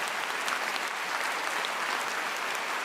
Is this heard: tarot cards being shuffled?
no